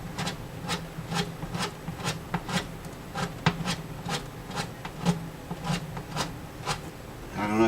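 A metal burr scrapes into a guitar's finish beneath a strip of tape, producing quiet, repeated short scratchy strokes in an irregular rhythm over a low background hum.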